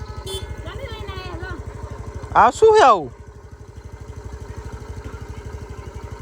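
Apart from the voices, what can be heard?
motor scooter engine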